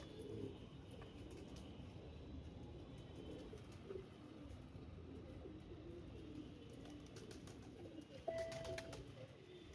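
Pigeons coo softly in a low, throaty murmur against steady outdoor background noise, with a brief brighter bird call near the end.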